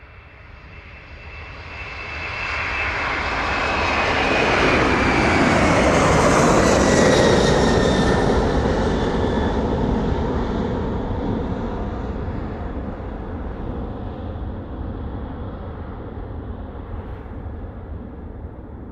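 A jet airliner takes off and climbs away from a runway at East Midlands Airport, its engine roar swelling to a loud, rumbling peak with a falling whine, then fading slowly into the distance.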